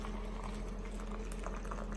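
Hot water from a boil pours steadily into an instant ramen cup, a close, continuous bubbling splash at low level with no talking.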